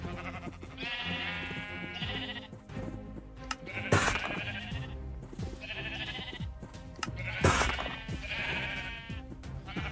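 Sheep bleat several times in a video game, the loud wavering calls recurring every few seconds over steady game background sound.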